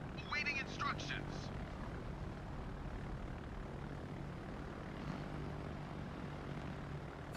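A fighter aircraft in a video game takes off with a steady, rumbling engine roar that holds throughout, and a short burst of voice is heard at the start.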